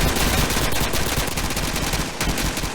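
Rapid automatic gunfire from Counter-Strike 2, a loud continuous burst of shots rattling close by with no pauses, filling the whole moment alone without voices.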